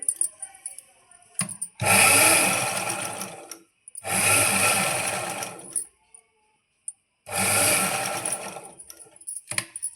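Sewing machine stitching piping onto a dress neckline, running in three bursts of rapid whirring stitches separated by pauses with small clicks and handling noises.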